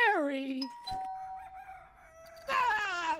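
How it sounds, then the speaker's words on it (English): A video game doorbell chimes in two clear tones, with a brief crow-like electronic call at the start and another sharp tonal burst at the end. "It's a doorbell."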